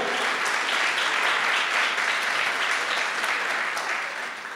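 A church congregation applauds loudly and continuously at a leadership conference, a dense wash of clapping that fades slightly at the end.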